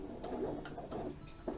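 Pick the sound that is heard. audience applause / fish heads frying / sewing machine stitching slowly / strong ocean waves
sewing machine stitching slowly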